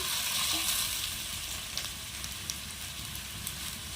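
Papaya and potato sizzle steadily in a hot pan with tomato just added, a dense continuous frying hiss with a few light clicks and stirring taps, no voices.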